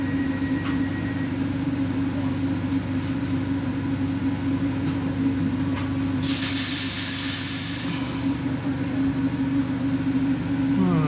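Steady low rumble and hum fill the cabin of a moving train heading toward Dortmund, with a brief louder hiss partway through, continuous and close without speech.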